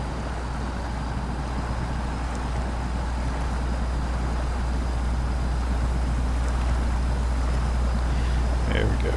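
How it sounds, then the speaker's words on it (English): A heavy truck engine in SnowRunner roars with a steady deep rumble, loud and continuous throughout, with no break in the drone. "The truck was really loud in my headphones."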